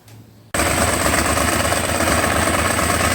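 A Ducati 749S motorcycle engine starts abruptly after a short quiet moment, then settles into a loud, steady, throbbing idle close by, warmed to operating temperature.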